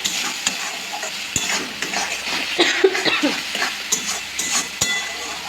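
Spice paste for a duck curry being stirred and fried in oil in a pan, with steady close sizzling and scraping stir strokes throughout, no talking.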